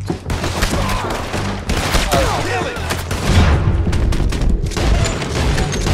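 Gunfire in the Red Dead Redemption 2 video game: a rapid volley of loud, close shots cracks in bursts across the stretch, mixed with impacts and booms.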